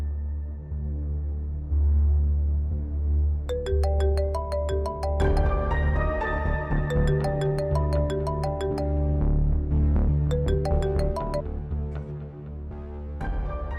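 Melodic phone ringtone playing a bright repeating electronic tune over a low steady background hum, loud and close, with no talking.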